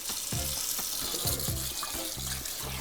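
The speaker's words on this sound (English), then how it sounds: "Put water." Tap water pours into a cooking pot for pork sinigang soup in a home kitchen, a steady splashing stream with rhythmic low thuds as the pot fills.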